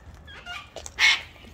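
A wild bird gives a few short, chirpy calls at twilight, ending in a louder, brighter burst close by, with quiet background between.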